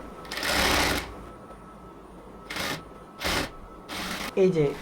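A sewing machine stitches salwar fabric in several short bursts of rapid mechanical whirring separated by pauses, close and moderately loud, with a brief voice at the end.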